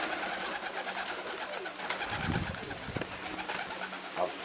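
Racing pigeons at a loft in Great Britain give several soft, low coos close by, set against a steady background hiss with occasional faint chirps.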